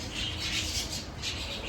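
Birds squawk and chatter right after being given their food, a dense, continuous flock noise with brighter calls rising and falling over a steady background.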